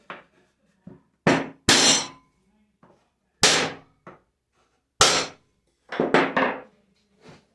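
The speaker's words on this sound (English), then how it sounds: "I'm going to take my block, hammer that down." Sharp hammer blows strike wood at uneven intervals, loud and close, some single hits and a quick cluster of several near the end, separated by quiet gaps.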